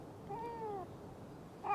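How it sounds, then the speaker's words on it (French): A cartoon cat stuck up in a tree gives a drawn-out, quiet, plaintive meow, then begins another sharper meow at the end. "on va aller chercher ton chat dans cet arbre"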